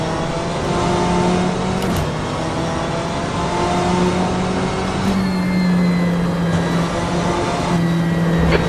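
A BMW M8 GTE race car's engine screams at high revs in the rFactor 2 racing game at Istanbul Park, loud and sustained, with a few abrupt gear shifts interrupting the steady drone.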